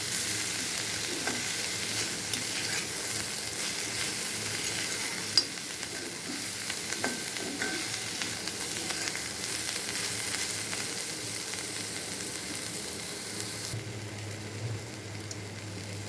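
Bitter gourd fries in a pan over a medium gas flame, giving a constant close sizzle with occasional light scrapes and clinks from stirring.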